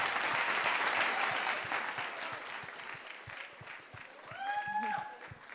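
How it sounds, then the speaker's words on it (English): Pageant audience applauds a candidate: a broad, fairly loud burst of clapping that gradually thins out and fades, with a brief tonal whoop or whistle near the end. "Big round of applause"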